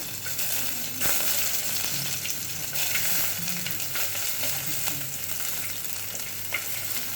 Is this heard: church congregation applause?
no